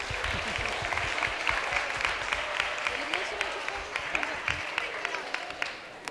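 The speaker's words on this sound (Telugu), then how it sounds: "Okay claps for everyone." Young people at a one-day youth retreat Bible quiz applaud everyone with sustained clapping, made up of sharp individual claps over a steady patter, while voices murmur underneath.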